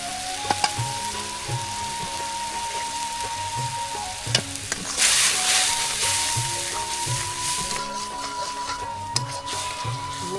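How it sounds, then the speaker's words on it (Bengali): Spices with turmeric, chili and salt sizzle and fry in a pan during village cooking, with a steady crackling hiss, scraping stirs and occasional knocks of a utensil close by. "মশলাটা ভালো করে কষায় রাখো"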